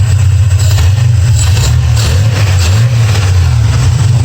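The engine of a Chevrolet C10 pickup fitted with a 260H camshaft runs up close and loud with a deep, lumpy, steady rumble and no speech.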